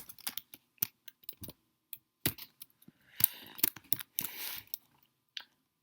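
Irregular bursts of clicky keystrokes on a computer keyboard, close and crisp, with short pauses between quick runs of typing and a dense flurry near the end; no talk.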